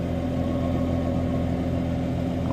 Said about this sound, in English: let's get down and hear that exhaust on this car.